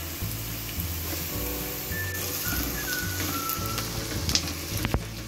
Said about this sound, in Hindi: अब इसको मैं अच्छी तरह फ्राई कर लूंगी, प्याजों को और लहसुन अदरक को